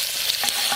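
Tomatoes are stirred and fried in a pan for Chettinad chicken gravy, a close bright sizzle with a few quick spoon scrapes and clicks, no talking.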